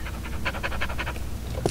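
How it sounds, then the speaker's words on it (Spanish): A dog panting in the video game Postal 2, a quick, rhythmic run of breathy huffs, close and clear, ending in a brief yelp-like sound. "ay, qué pesar, pobre perro."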